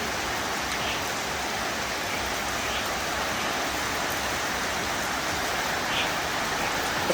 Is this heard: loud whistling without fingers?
no